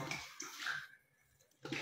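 Tap water poured from a 1.5 litre jug into a pot, a broad splashing gush that runs for about a second, then fades to a quiet trickle before a short burst of pouring returns at the end.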